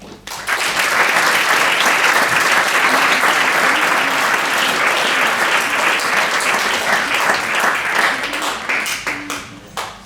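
Sustained applause from an audience, loud and dense, continuing for several seconds before thinning out toward the end.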